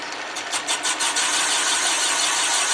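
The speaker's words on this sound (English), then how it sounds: "sounds like a better cut. Sounds like we're getting it all around." Boring bar cutting a cylinder of a Willys engine on a boring machine, a steady, loud, hissing metallic grind with a brief pulsing chatter at the start that then settles into an even whir, with no talking.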